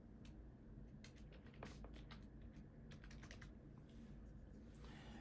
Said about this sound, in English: I'm going to type in my equation here.